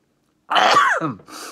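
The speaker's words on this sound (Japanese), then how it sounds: "くしゃみが" A single sharp sneeze bursts out after a moment of silence, followed by a short breathy exhale.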